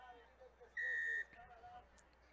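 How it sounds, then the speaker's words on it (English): Referee's whistle at a rugby sevens final, one sharp sustained blast of about half a second, amid crowd noise with commentary around it. "There's the whistle."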